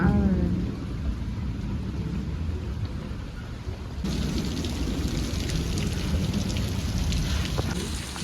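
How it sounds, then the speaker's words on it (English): Heavy rain from Hurricane Hilary pours down steadily in Delano, California, with low rumbles of thunder beneath a dense, continuous wash of drops that grows thicker and louder partway through. "It's raining harder now."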